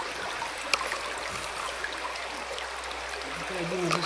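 Small clean river stream at one of the sources of the Oskolets river, a steady broadband trickle and rush of flowing water heard close and continuous, with a brief knock near the start.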